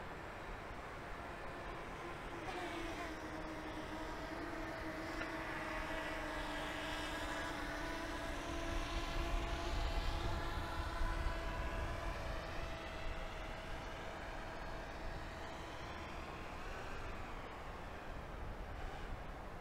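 A DJI Mini 2 drone flies in strong wind, its steady buzzing whine continuous and fairly loud, with tonal bands wavering as the motors work against gusts that swell midway.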